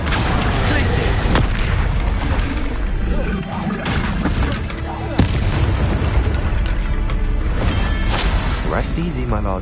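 Confringo spell blasts in the Hogwarts Legacy video game, dense and loud booming explosions that follow one another continuously, layered with other spell effects, a game score and voices speaking over them.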